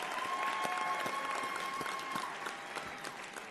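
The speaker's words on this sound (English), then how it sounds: "One more round of applause for this group." Steady applause from a convocation audience as graduates exit the stage, a dense, even clapping that fades slightly toward the end, with no talking over it.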